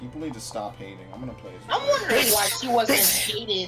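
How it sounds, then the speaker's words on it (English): A forceful sneeze bursts out during a Fire Emblem Warriors game stream, loud and close, following a stretch of speech. "these aggressive fucking sneezing fits"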